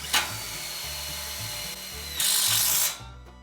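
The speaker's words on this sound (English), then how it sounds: "cordless 20 volt DeWalt impact, little small hex head self-drilling screw" A DeWalt 20V cordless impact driver whirs and then hammers a small hex head self-drilling screw home during a creep gate build, ending in a louder burst of impacts before stopping.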